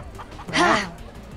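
A chicken in the video game Minecraft Story Mode lets out a short, loud squawking cluck over faint game background sound.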